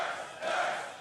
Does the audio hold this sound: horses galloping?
no